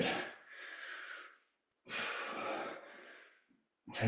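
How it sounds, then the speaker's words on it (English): Deep, slow breaths drawn in and let out during a restorative stretching exercise, two long airy exhalations separated by a pause, close and fairly soft, with a sharper intake at the end. "Get that full depth to your breathing."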